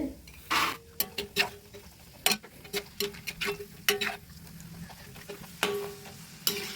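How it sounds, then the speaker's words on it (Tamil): Cashew nuts lightly roasting in a pan for Diwali kara boondi, sharp scattered clicks and rattles as the nuts are stirred and tossed against the metal, close and irregular over a soft background hiss. "முந்திரி பருப்பு அதையும் லைட்டாக ரோஸ்ட் பண்ணி எடுத்துக்குவோம்"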